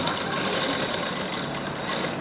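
Sewing machine stitching a V-shaped neckline on a kameez, a rapid, even mechanical chatter running close and steady without pause.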